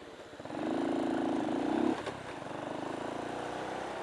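Chinese motorcycle with a Japanese overhead-valve CG engine and Japanese carburettor idling steadily, with a brief rise in revs before settling back to a constant, moderately loud, near engine drone.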